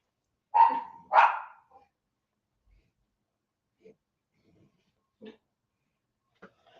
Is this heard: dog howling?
yes